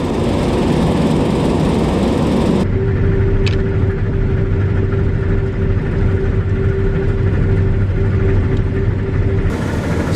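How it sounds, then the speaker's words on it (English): A combine harvester with a draper head runs with a steady mid-pitched engine drone and a sustained whine from a failing motor pump, loud and continuous, without talk. "Sounds like the motor pump that drives Dad's one side of the head sounds like it's went bad"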